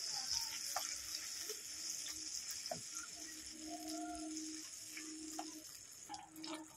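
Mustard paste sizzling with flat beans in a pan over very low gas, a faint steady hiss broken by soft scrapes and clinks as it is stirred.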